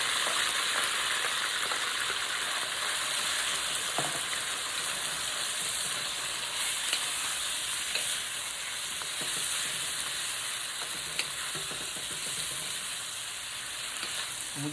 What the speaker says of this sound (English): I've had the oil heating up in it for a bit, and I'm just going to dump all that beef we were marinating